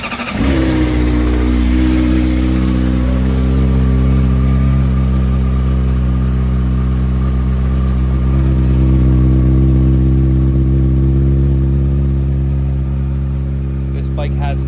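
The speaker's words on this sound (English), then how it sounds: "Let's start her up." A 2022 Honda CBR600RR with an Akrapovic exhaust fires up and holds a loud, steady, close idle for the rest of the stretch, with faint clicks near the end.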